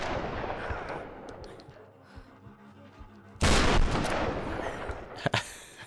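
Shotgun blasts from the Tomb Raider game: after quieter ambient sound, a loud broadband boom erupts and rings on, followed by a second sharp shot near the end, close and forceful.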